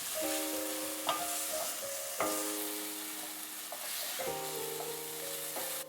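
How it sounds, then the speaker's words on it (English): Garlic, ginger and red chili sautéing in a teaspoon of avocado oil, a steady close sizzle broken by a few clinks of a utensil stirring in the pan. "1 teaspoon avocado oil. Garlic, ginger, and red chili pepper. Sauté for 2 to 3 minutes."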